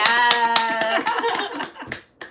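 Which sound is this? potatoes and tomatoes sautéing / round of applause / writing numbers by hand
round of applause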